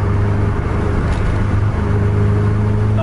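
Bus engine working hard and revving steadily as it overtakes another bus in a road race, a continuous loud mid-low drone with no pauses, heard from on board.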